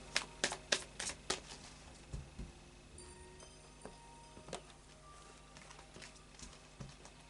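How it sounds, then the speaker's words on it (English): Tarot of Dreams cards being shuffled, with a quick run of sharp riffling flicks at first, then sparse soft taps and slides as the deck settles, close and quiet. "And a final shuffle of the Tarot of Dreams."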